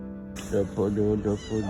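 A small cat aboard a small sailboat lets out several close, drawn-out meows in quick succession after a brief quiet start, loud and clear against faint background noise.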